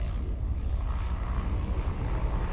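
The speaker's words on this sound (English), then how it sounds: "You can hear that prop plane sound." Explorer ship engine in the video game Elite Dangerous, a steady droning hum like a propeller plane, continuous and fairly loud with no voices over it.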